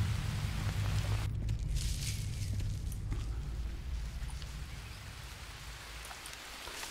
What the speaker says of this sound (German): Es regnet in der Höhle, geil